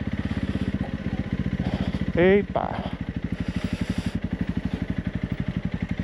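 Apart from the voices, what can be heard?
Honda CRF 300 Rally motorcycle riding off-road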